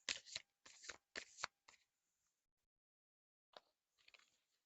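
Tarot or oracle cards being shuffled: several quick riffling bursts close by, then a pause of quiet before a couple of softer riffles and taps.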